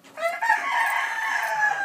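Close, loud crowing from a Black Jap Asil Peru gamefowl fills the whole stretch in one sustained, strained call with no voices around it.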